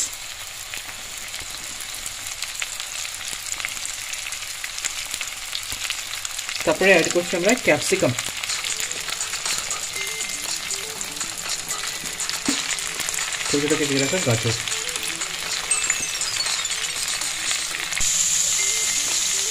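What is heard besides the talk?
vegetables (cauliflower, beans, capsicum, carrot) frying in pan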